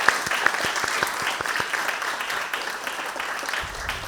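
Applause at a school film and media awards ceremony: a room of people clapping steadily and fairly close for several seconds, with no talk over it.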